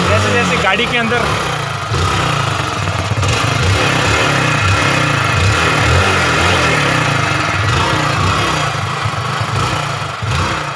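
A motorcycle engine runs loudly and continuously, revving while its silencer exhaust is piped into a homemade air pump built from household waste. The rough, throbbing note holds for the whole stretch.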